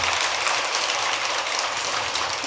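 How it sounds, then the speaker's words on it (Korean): A temple audience applauds to welcome a Japanese monk in black robes at a Buddhist dharma talk, a dense, steady wash of clapping that fills the whole stretch without pause. "큰 박수로 한번 맞이해 주십시오."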